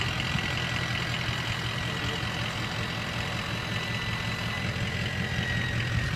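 A 2004 Ford F-350 diesel pickup engine idles with a steady, low, rumbling drone that stays even throughout, close by and fairly loud.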